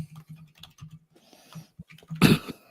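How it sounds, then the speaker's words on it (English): Fast computer keyboard typing sounds in short, uneven bursts of soft clicks close to the microphone, ending in a louder rustling burst. "My keyboard is like lagging so bad."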